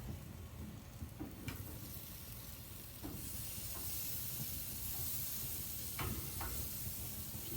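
Smoked BBQ ribs sizzle over a hot backyard barbecue, a steady broad hiss with a few faint pops and clicks, fairly quiet and with no talk.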